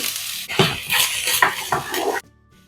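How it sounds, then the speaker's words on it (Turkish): Onions sizzle and crackle in olive oil in a hot pan while a utensil stirs and scrapes in bursts, close up, then it suddenly goes quiet. "İlk önce soğanı kavurmakla başlıyorum yine."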